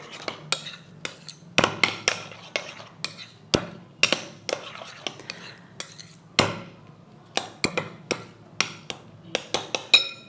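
A spoon mixes honey and peanut butter in a bowl, giving repeated sharp clinks and taps against the dish in an irregular rhythm, close and clear with quiet gaps between strokes.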